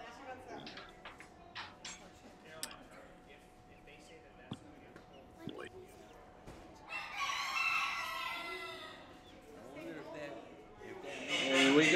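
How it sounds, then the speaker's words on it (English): A black Langshan hen at a county fair poultry show, with a rooster crowing in the background amid crowd noise, a louder burst of crowing near the end, and people talking nearby. "This is a nice hen."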